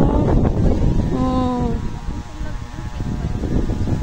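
Steady wind buffets the microphone outdoors in Alegria, Cebu, with a constant rumbling roar, while voices talk over it and a brief tonal hum rises in the middle.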